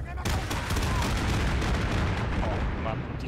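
Grenade explosions in the World War I shooter Isonzo, a dense run of loud booming blasts and rumbling detonations filling the short stretch with little pause.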